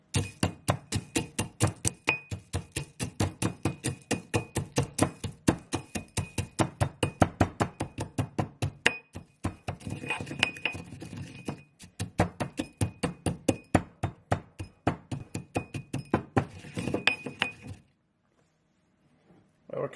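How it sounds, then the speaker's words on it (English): Dried meat is pounded in a mortar and pestle for pemmican: fast, even, sharp thuds in a long steady run with a brief break midway, then the strokes stop near the end. "now in our mortar and pestle, we're going to start doing some bashing."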